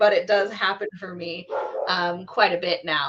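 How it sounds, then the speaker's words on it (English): Several dogs bark and yip in the background of a home, with the barks mixed under a person's steady speech throughout. "I apologize for the dogs barking in the background."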